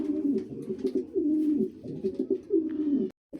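Pigeons cooing steadily at a pigeon farm, a close, continuous chorus of low rolling coos that fills the clip before a brief drop near the end.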